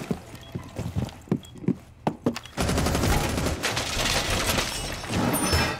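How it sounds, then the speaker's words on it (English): Gunfire in Rainbow Six Siege: a string of sharp separate shots gives way to a loud sustained burst of rapid automatic fire that continues to the end, close and dominant with no talk. "Hey, he's shooting."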